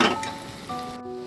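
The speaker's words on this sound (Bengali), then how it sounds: "লুচি ভাজার আওয়াজ নিশ্চয়ই পাচ্ছ?" Luchi frying in hot oil in a special kadai, with a bright, crackling sizzle, louder at first and then settling into a steady bubbling hiss, heard close and alone.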